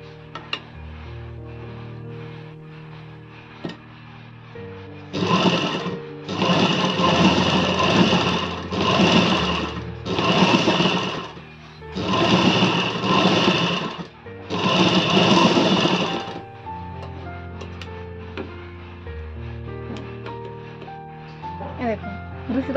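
A sewing machine stitching along the edge of a bra-cut blouse runs in five or six loud bursts of rapid mechanical clatter, separated by short pauses, over a continuous background of music and a voice talking.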